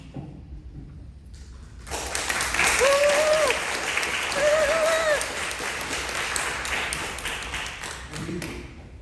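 An audience gives a guest speaker a warm welcome: applause rises suddenly and holds dense and continuous for about six seconds. A few high whistles run through it before the clapping fades.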